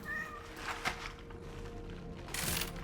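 Cats in the video game Cronos: The New Dawn give soft, drawn-out meows, faint and somewhat distant over a low steady hum, with one brief sharper cry.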